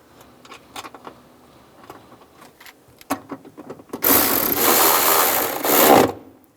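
Tightening bolts on the rear shock absorber of a 2004-2009 Toyota Prius: light metallic clicks and ratcheting taps at first, then a loud, sustained grinding whir for about two seconds, all close up.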